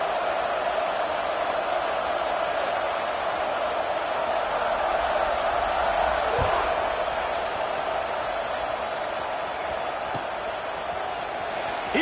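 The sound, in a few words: football stadium crowd buzzing after a score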